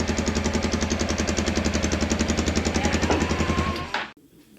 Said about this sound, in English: The engine sounds very well